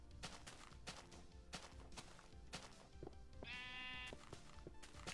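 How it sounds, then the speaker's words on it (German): Minecraft sheep bleat amid continuous game sounds and clicking effects, with a sustained tonal chime partway through; no voices. "Wie viele Schafe hier spawnen."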